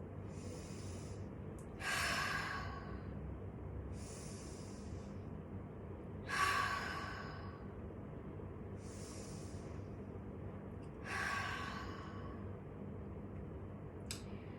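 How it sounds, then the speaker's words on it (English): Three deep breaths during a yoga shoulder sequence, each a slow airy inhale followed by a longer, louder exhale, evenly spaced and close against a low steady background hum. "So take 3 deep breaths."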